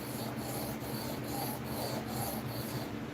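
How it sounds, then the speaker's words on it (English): A knife is sharpened on a 1000-grit whetstone, giving a steady, close, gritty rasp with strokes repeating about every half second. No one speaks. "That's how you know you're cutting new steel."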